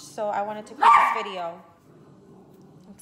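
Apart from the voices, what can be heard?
dogs barking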